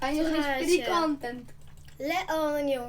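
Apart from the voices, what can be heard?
No everyday noises stand out.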